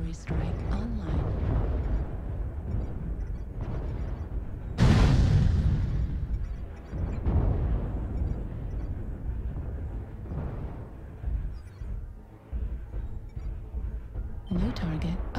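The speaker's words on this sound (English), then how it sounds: "Artillery strike online" Artillery strike explosions in a video game: a sudden, loud, close blast erupts midway and rolls off into a long rumble, with lower thuds and crackling battle noise before and after, and a voice speaking now and then beneath the din.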